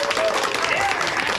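Scattered applause from a comedy club audience at a Notorious B.O.Z. show, a short burst of clapping with crowd voices mixed in.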